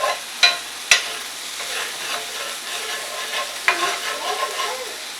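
A spatula scrapes and stirs shrimp and summer vegetable pasta in a cast iron pan, with a few sharp scraping knocks over a steady, close sizzle.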